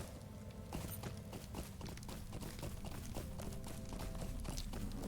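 Horse hooves clip-clop in a rhythmic, steady gait in the Lord of the Rings Online video game, moderately faint over a low ambient background with no talking.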